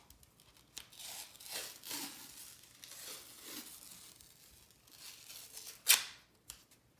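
Athletic tape is torn and wrapped around an ankle, making soft, close peeling and rustling sounds that end in one sharp, short tearing rip.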